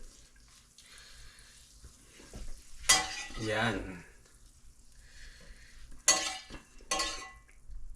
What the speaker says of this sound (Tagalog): Prito na natin yung ating steak mga kabuli.